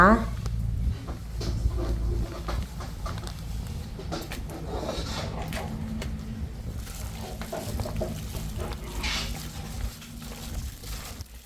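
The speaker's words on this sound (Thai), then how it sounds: "ลุกเคล้าให้เข้ากันอีกหนึ่งรอบแค่นี้ก็เสร็จเรียบร้อยนะคะ" Chicken ribs being tossed and mixed by hand with crispy frying flour in a bowl, a soft continuous shuffling and scraping close up, while someone talks over it.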